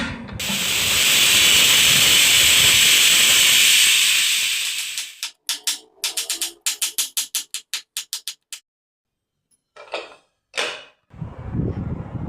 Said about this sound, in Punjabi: ਹੁਣ ਆਪਾਂ ਚਣਿਆਂ ਨੂੰ ਪ੍ਰੈਸ਼ਰ ਕੁੱਕਰ ਵਿੱਚ ਪਾਵਾਂਗੇ ਤਾਂ ਕਿ ਆਪਣੇ ਚਣੇ ਸੌਫਟ ਹੋ ਜਾਣ